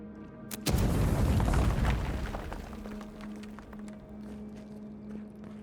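A grenade goes off in the fantasy video game Avowed: a sharp, loud blast near 0.7 s that rolls into a long, rumbling boom and slowly fades under a steady low hum.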